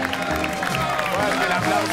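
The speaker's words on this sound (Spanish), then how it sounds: "¡Fuerte el aplauso para los abuelos!" A studio audience on a grandparents-versus-grandchildren game show applauds the winning grandparents, a dense, steady wash of clapping and crowd noise for two seconds, with a host's shouting voice over it.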